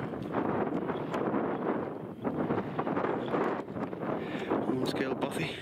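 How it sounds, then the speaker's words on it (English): Gusty wind rushes across a fell near High Stile during a wild camp, a loud, steady roar buffeting the microphone, with people talking over it in places. "The wind's picking up."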